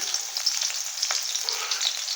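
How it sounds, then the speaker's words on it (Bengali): Chopped onion fries with whole cumin and cardamom in hot oil and is stirred around the pan, giving a constant near sizzle with small scraping movements and no voices. "দেখুন পেঁয়াজটাকে নেড়ে করছি"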